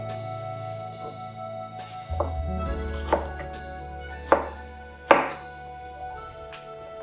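A knife chops a red pepper into bite-sized pieces on a cutting board, with about five crisp, distinct cuts at an uneven pace, close and alone against faint kitchen background hum.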